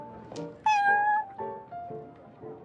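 A cat in the Genshin Impact video game meows several times, nearby and clear, one drawn-out meow stronger than the shorter calls around it, with no speech.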